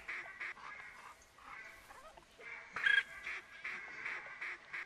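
Mallards and other ducks calling during a duck hunt, with repeated quacks in short bursts coming from a moderate distance over quiet outdoor background.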